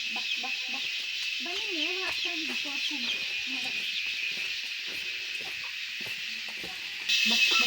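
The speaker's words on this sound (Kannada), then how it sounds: "ಇದೆಲ್ಲ ಪ್ಯೂರ್ ನಾಟಿ ಕೋಳಿಗಳು" Pure native country chickens at a Malnad village home cluck repeatedly in short, rising calls, fairly close, over a steady high insect-like drone with faint background voices.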